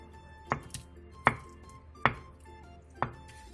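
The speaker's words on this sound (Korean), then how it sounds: "두부 반모를 먹기 좋은 크기로 큼직하게 잘라주세요." Knife cutting half a block of tofu into large chunks on a cutting board, four sharp separate chops spaced through the stretch with faint kitchen background between.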